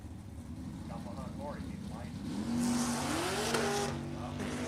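A Corvette drag car at a drag race spins its tires off the line, with a rising engine and tire squeal over steady crowd and track noise, while an announcer talks throughout.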